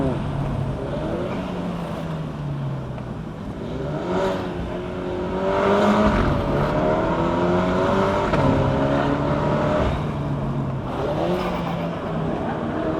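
A MINI John Cooper Works GP Inspired Edition (F56) engine drones and rises in pitch at full throttle, shifting through gears in a long continuous roar on a Genting mountain road in Malaysia.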